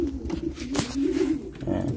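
Pigeons coo softly in an old-bird breeder cage, a steady rolling low murmur of overlapping coos with occasional wing or perch rustles, close by and continuous.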